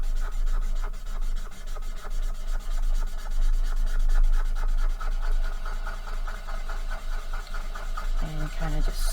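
Alcohol marker ink is scrubbed off a surface with rapid, rhythmic scratching and rubbing strokes, close and steady, over a low background hum.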